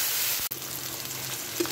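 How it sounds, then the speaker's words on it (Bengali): Boiled potato pieces and pointed gourd fry in hot oil, giving a loud, steady close sizzle with a quick stirring scrape partway through and no speech. "এবারে সেদ্ধ আলুটা দিয়ে আর একটু ভেজে নেব।"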